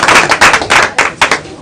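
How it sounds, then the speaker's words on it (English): An audience gives a round of applause for the ladies at a board session, loud close clapping arriving in uneven bursts. "one more round of applause for the ladies"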